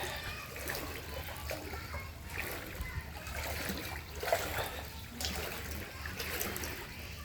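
Floodwater inside a submerged outdoor kitchen, faint trickling and gentle sloshing splashes that come and go over a low background rumble.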